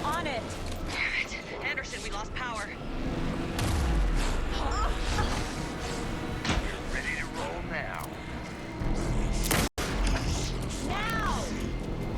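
Gunfire in the video game Alan Wake 2 during a tense fight, with repeated sharp shots, crashes and booms scattered through the scene, mixed under shouting characters and a brief cut near the end.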